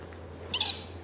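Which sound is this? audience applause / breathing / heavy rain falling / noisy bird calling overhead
noisy bird calling overhead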